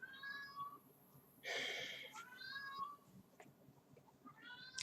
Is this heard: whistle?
no